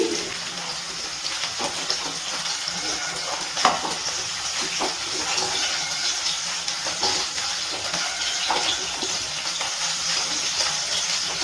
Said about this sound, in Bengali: ফুলকপিগুলো ভাজা হয়ে গেছে, ফুলকপিগুলো এবার তেল থেকে আস্তে আস্তে তুলে নিচ্ছি।